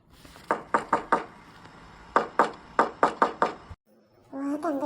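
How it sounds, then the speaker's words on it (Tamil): Knuckles rap on a wooden door in two quick bursts of four to five knocks each, with a short pause between the bursts. A voice starts speaking right after the second burst. "திரும்பவும் கதவை தட்டணும்"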